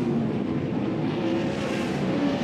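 Sprint race cars lapping Wayne County Speedway during an All Star Circuit of Champions event, a steady distant engine roar sustained without a break.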